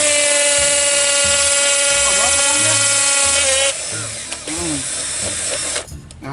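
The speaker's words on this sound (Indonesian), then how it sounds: "kita akan bor ini karena ini lumayan keras ya" Power drill whining loudly at high pitch as it bores into a hard tree fern trunk, steady for several seconds before easing off, with brief rustling and handling noise near the end.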